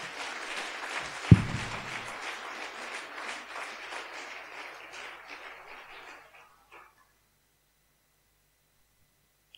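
A church congregation applauds together, a dense wash of clapping that swells briefly with one sharp hit early on, then thins out and stops around the middle, leaving near silence.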